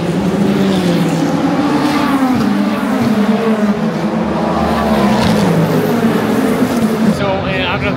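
A Ferrari race car sweeps past at a WEC endurance race at Circuit of the Americas, its engine note rising and falling as it passes, blended with crowd noise and nearby talk throughout.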